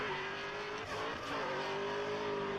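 Drift car on a race track after crashing into a wall, its engine droning and revving with a sustained tonal whine and a brief dip before climbing again, heard at a moderate distance under broad track noise.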